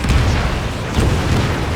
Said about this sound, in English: Analysis shows the projectile was a railgun shell.